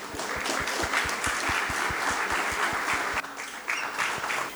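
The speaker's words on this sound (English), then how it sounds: "Please join me in giving a warm round of applause" Audience applause at a school Founder's Day celebration, welcoming the chief guest; steady, dense clapping from a large crowd fills the whole stretch with a brief dip before it swells again.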